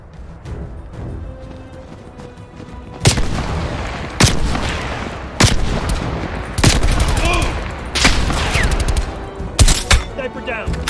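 Sniper fire in Call of Duty Black Ops Cold War on PS5: a string of loud, sharp gunshots cracks out at irregular intervals over an ongoing rumble of battle noise and gunfire.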